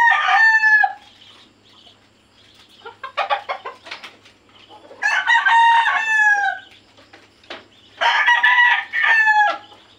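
Roosters crow loudly and close, several long drawn-out calls overlapping, with clucking between the crows.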